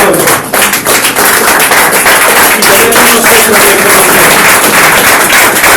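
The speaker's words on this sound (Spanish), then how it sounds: "Dele un aplauso a mi Señor." A church congregation claps for the Lord during a Spanish-language sermon, a dense, steady stretch of loud clapping that fills the whole span, with a few sharper claps standing out and a voice faintly underneath.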